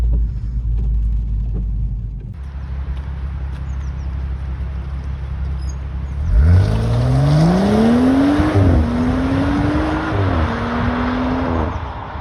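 BMW 135i F20 engine and exhaust: a steady low idle rumble, then a rising rev that sweeps upward, dips and climbs again, loud and close, with no talk.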